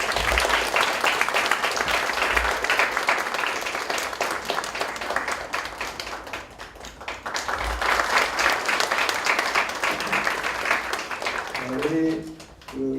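Church congregation applauding during a 12th-anniversary worship service, a sustained wash of clapping that holds steady for most of the stretch, dips briefly midway, then fades near the end as a voice and faint tones emerge.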